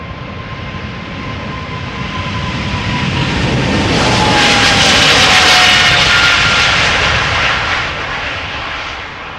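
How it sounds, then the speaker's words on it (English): A KLM Boeing 777-300ER, two years old, departs Amsterdam Schiphol's runway 36L for Sao Paulo with a loud, continuous jet roar that swells to a peak midway and then eases off, with a faint descending whine running through it. "Next up, 777 to Sao Paulo. KLM flight 791. 777-300 ER, 2 years old"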